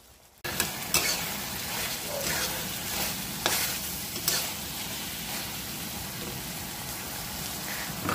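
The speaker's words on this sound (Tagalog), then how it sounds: "Stir fry pork liver with pipino." Pork liver and cucumber sizzle and crackle steadily in a hot pan, with a few sharper scrapes and knocks as the food is tossed and stirred, loud and close, with no voices.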